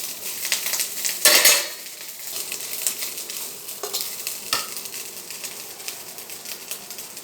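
Cooked rice tumbles into a pan with fried curry leaves and is stirred, a close, crackling sizzle with a louder burst near the start and intermittent spoon-on-pan scrapes and clinks, with no talking.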